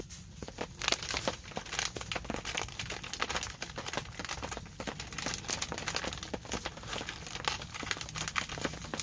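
A ration heater pouch is torn open amid loud crinkling plastic, with sharp tearing rips and rustling handled close up, continuous throughout.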